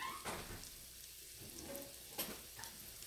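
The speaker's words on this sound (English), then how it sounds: "So while those are sauteing" Frozen broccoli sautés in a pan with a soft, steady sizzle, joined by a few light stirring scrapes and clinks; no one speaks.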